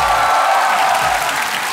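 A studio audience at a comedy show claps on cue, a dense, steady wash of applause that holds at full loudness for under two seconds.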